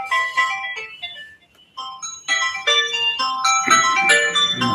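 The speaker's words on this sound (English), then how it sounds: "That's my phone ringing," A mobile phone ringtone plays a bright electronic melody of repeating tonal notes, loud and close, with a brief pause partway through and no speech over it.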